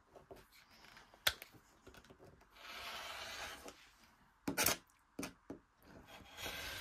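A fabric quilt block for a maple leaf pattern is trimmed along a ruler, giving soft, close rubbing and scraping strokes with a few sharp clicks and brief louder swipes near the end.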